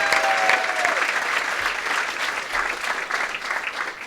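Loud, sustained applause from a sold-out comedy club crowd in the West Village, a dense continuous roar of clapping with no gaps.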